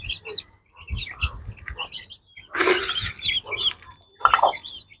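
Rich Vatam chicks from Bhimavaram chirping and peeping close by, a run of scattered high calls with one louder burst in the middle, fairly quiet, alone without talk.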